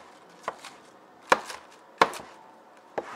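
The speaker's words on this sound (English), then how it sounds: "So all we're going to do is just chop it up." Spinach is chopped with a knife on a cutting board in a close series of sharp, separate thuds spaced about a second apart, some with quick doubled taps, against a faint background hiss.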